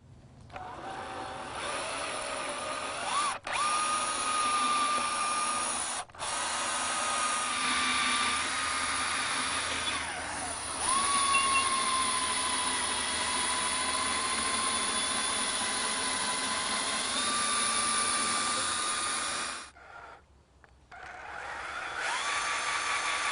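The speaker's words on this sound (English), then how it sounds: "Use a long 3/16 inch diameter drill bit to drill down through the seat back" A power drill with a long 3/16-inch bit bores down through a rustic wooden chair's seat back into the seat, a steady whining drone held for about twenty seconds with brief stops and small shifts in pitch.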